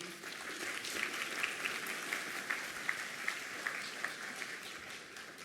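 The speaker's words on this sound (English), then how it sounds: "Can we give him a round of applause, please?" Audience applause for a pianist at a University of Memphis School of Music convocation, steady clapping from a hall of students, graduates and faculty, moderately distant and even throughout with a few sharper individual claps.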